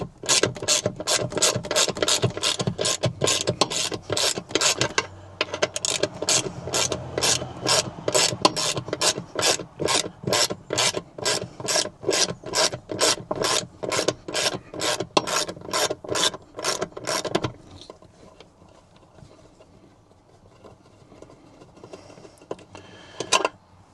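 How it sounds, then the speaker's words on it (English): A hand ratchet backs out T44 Torx bolts from a bracket on an Ineos Grenadier, a long run of rapid, evenly spaced clicking strokes up close that stops near the end, leaving quiet shuffling. "we're going to take out these bolts down here. They're the top T44 bolts on this bracketry"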